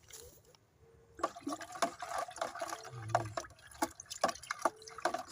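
Yeast stirred by hand into a container of water, giving soft irregular sloshing and trickling with small clinks, close and moderately quiet, with no talking.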